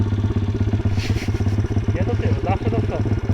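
A small MRF pit bike engine runs steadily with a low throbbing idle, rising slightly as the throttle opens, while a person talks over it.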